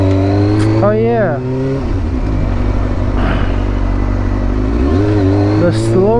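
A car engine revs up in sharp rising blips during downshifts, the tone climbing then settling back to a steady drone, loud and close from inside the cabin, with someone talking over it.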